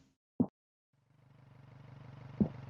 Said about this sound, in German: Ich höre das Auto.